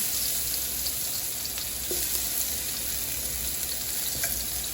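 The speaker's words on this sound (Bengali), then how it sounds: "তেল দিয়ে এখন আমি রসুন দিলাম" Garlic frying in oil in a cooking pot, a steady soft hiss of sizzling with a few faint clinks, continuous and even, no voices.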